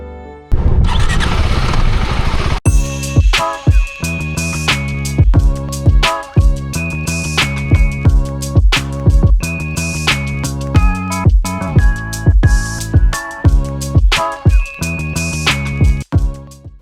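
A motorcycle engine roars loud and close while riding, with the rider wearing a full-face helmet. Repeated revs climb in pitch through successive gear changes, preceded by a brief burst of rushing noise at the start.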